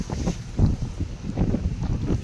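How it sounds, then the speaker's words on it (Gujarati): A strong wind blows through a garden in the morning, gusting unevenly and buffeting the microphone with a low, rumbling roar. "પવન બહુ ખતરનાક આવે"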